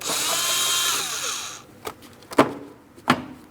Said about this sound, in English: To loosen these clamps, you can either use a flat blade screwdriver or an 8mm. I'm using an 8mm socket.